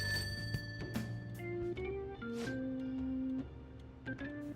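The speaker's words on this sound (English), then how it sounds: "I guess I better answer the telephone." A telephone rings downstairs in the video game Persona 5, a trilling electronic ring mixed with tonal game music, moderately faint and continuous with no talk.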